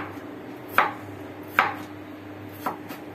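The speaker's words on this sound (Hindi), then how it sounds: "बिल्कुल छोटे छोटे क्यूब्स कटिंग में हम कट कर लेंगे इसको" A knife cuts watermelon into small cubes on a board, three crisp chops spaced under a second apart, sharp and close against a quiet background.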